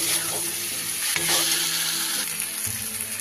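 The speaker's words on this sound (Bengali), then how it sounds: "এইবার আমি ভেজে রাখা আলু দিয়ে দিব। আলু আর ফুলকপি সব একসাথে দিয়ে দিলাম। দিয়ে ভালো করে মশলার সাথে মিশিয়ে নেব।" Fried potatoes and cauliflower are stirred into sizzling spice masala in a pan, a loud continuous frying hiss with scraping, clattering stirring strokes close up.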